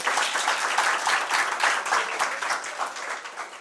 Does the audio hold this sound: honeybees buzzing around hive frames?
no